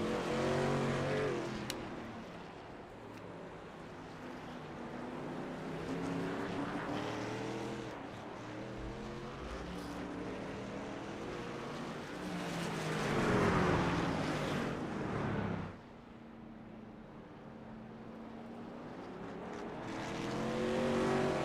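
Racing trucks lap Oran Park during a Grand Prix in a video game, engines droning and rising and falling in pitch as they pass and accelerate, with no talk.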